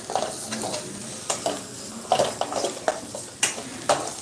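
Onions sauté in a pan with a steady sizzle and repeated scraping stirs of a utensil, the clinks and scrapes of metal on metal coming irregularly and close.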